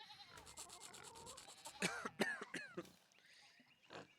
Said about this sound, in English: the pigs in the background are great. And the sheep.